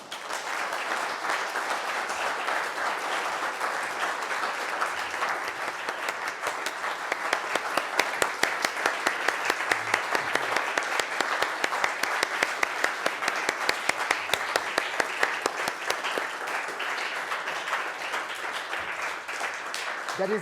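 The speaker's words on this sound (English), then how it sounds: "That's the longest applause I've ever gotten." Long, sustained applause from a lecture audience after a talk on Damascus, dense even clapping that swells slightly midway and continues for about twenty seconds.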